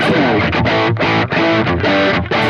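Heavily distorted electric guitar chords through a cranked Marshall Studio Vintage SV20 Plexi-style amp ring out loud and saturated, played in a steady rhythmic pattern with short gaps between strums.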